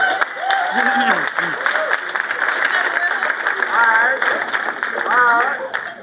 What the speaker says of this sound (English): Ladies and gentlemen, clap it up for Will Denson.